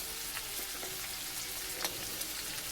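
Green chillies go into onions frying in a pan, giving a steady, dense, close sizzle and crackle with small spitting pops throughout.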